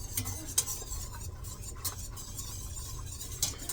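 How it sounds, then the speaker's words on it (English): A mixture with lemon juice is whisked in a bowl, quiet rhythmic swishing with a few bright metallic clinks of the whisk against the sides, close and soft, with no talking. "And you just want to use a whisk."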